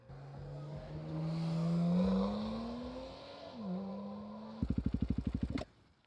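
A cold KTM 500 EXC-F single-cylinder dirt bike revs up as the throttle is blipped, the engine climbing, sagging and then stumbling into a quick burst of rapid popping before it cuts out into silence.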